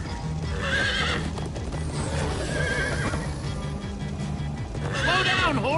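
In Minecraft Story Mode, a horse whinnies loudly several times over rapid hoofbeats as it gallops, with game music and effects layered underneath.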